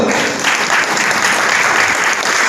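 An audience at a music and dance-drama performance in a sabha hall breaks into thick, continuous applause, loud and close, with clapping filling the whole stretch and no talking.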